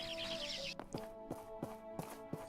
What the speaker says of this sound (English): The constant bird noise is very distracting though.